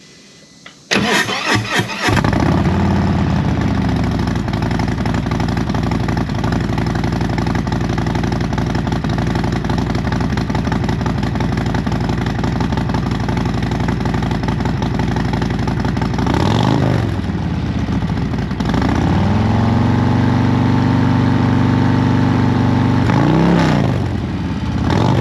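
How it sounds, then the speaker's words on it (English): A Harley-Davidson Street Glide ST motorcycle cold starts with a brief cranking burst, then settles into a loud, steady, rumbling idle with a couple of short revs partway through. "So I'm gonna do a cold start for you guys"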